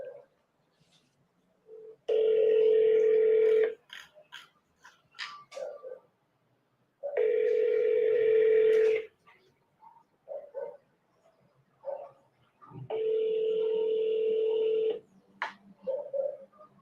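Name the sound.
telephone call ringing before voicemail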